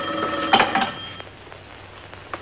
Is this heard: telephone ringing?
yes